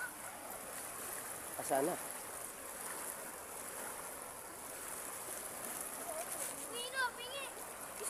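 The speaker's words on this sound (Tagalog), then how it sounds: "napakaganda po ng agos ng tubig, no? Sa ingay niya po guys, no?" A stream flows with a continuous moderate rushing wash of water, heard steadily throughout with a couple of brief splashy accents and occasional voices over it.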